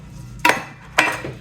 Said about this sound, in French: Ah, ma vaisselle est prête à serrer.